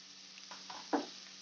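Onions fry in a pan for soya fried rice, a faint, steady sizzle beneath a few soft stirring scrapes and one sharper clack of the spatula.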